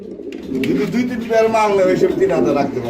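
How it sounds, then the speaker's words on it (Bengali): King pigeons coo in a low, rolling series close by, with voices talking over them during a pigeon sale. "এখানে আপনারা দেখতে পাচ্ছেন একজন কিং কবুতর রয়েছে"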